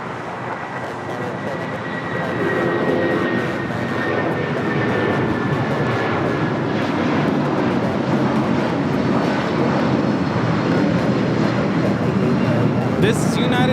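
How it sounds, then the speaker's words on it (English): United Airlines Boeing 757-200 taking off from Los Angeles airport, a steady loud jet roar sustained throughout with a faint whine, while a person talks over it. "1981 taking off to Newark on the 757-200"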